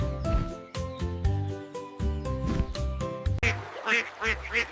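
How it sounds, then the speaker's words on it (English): A duck quacking in a rapid series of loud, nasal calls, close and clear, with a short pause before a final burst of quacks. "It's a duck."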